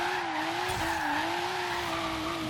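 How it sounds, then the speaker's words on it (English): Toyota Supra tires squeal steadily through a long power slide in Forza Horizon 3, a loud continuous wavering screech over engine roar with no talk. "that's a big power slide"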